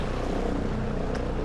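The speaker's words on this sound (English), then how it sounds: "I hear that helicopter." A helicopter flying overhead, heard outdoors on a hiking trail as a dense, steady rotor and engine rumble that stays fairly loud throughout the short stretch, with no talking.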